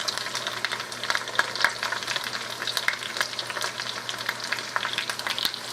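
Half a large onion frying in a stew pot for an African stew, giving a steady, close crackling sizzle with scattered sharper pops throughout, no voices.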